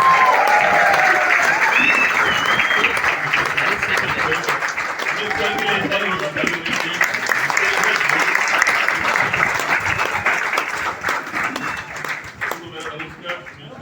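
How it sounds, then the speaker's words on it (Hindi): Loud, dense applause from an audience at a lifestyle marketing company event, sustained for about fourteen seconds with overlapping voices and cheers, then tapering slightly at the end. "जोरदार तालियां होनी चाहिए सबको, जोरदार तालियों के साथ"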